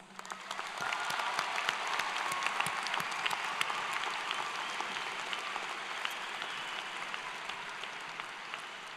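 Sustained applause from a large audience at a 2024 high school graduation ceremony, steady dense clapping filling the hall for the whole stretch, fairly close and loud, with no talk over it.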